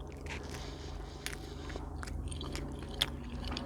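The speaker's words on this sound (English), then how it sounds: "I'm just gonna bite into them now" Close, crisp bites into barbecue chicken wings from Smashburger, a few soft crunching and chewing sounds over a steady low background hum, with a sharper snap near the end.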